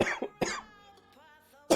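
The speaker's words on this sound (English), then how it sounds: "Sorry. Got a cough." A man coughs at close range: two quick harsh coughs, then another cough a moment later, with some background music in between.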